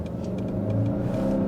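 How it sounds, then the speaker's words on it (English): A 2022 Subaru Ascent turbocharged SUV with a CVT pulls away hard from a standstill at full throttle, its mid-pitched engine drone steady and loud from inside the cabin with no talk. "It took a while for the vehicle to really start to get moving"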